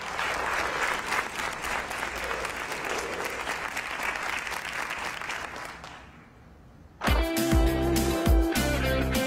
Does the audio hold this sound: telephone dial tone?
no